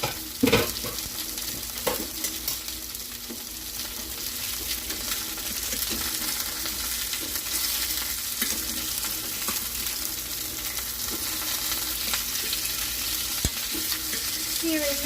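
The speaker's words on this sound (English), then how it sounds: "Sear it nicely." Country style ribs searing in a hot pan, a steady, loud sizzle and crackle of frying meat throughout, with occasional clinks and scrapes of utensils against the pan.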